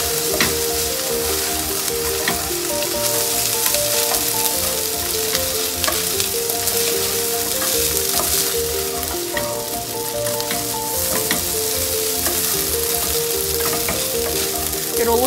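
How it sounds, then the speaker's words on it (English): Butter and soy sauce sizzle in a pan while being stirred, a loud, steady crackling fry that runs throughout with faint scraping, with no talk. "A tablespoon of butter, just let it melt, and add a little bit of more soy sauce"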